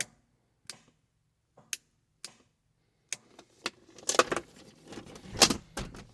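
Line lock on a turbocharged LT1 1993 Trans Am clicking as it activates, a series of sharp, faint ticks at irregular intervals, followed by a busier cluster of louder clicks and rattles nearby.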